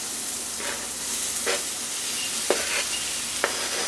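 Vegan beef strips sizzle steadily in a hot pan, with a few sharp scraping strokes of a utensil stirring them at irregular intervals, close and loud, no talking.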